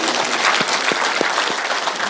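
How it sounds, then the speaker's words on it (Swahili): A crowd applauds at a political gathering in Mugumo, Kenya, steady clapping filling the short stretch at close range with no talk over it. "tumivilie makofi"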